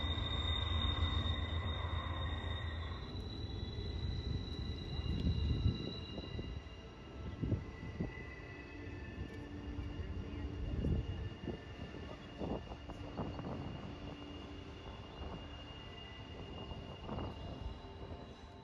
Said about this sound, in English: here's our first train already